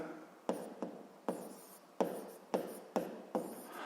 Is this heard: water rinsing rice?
no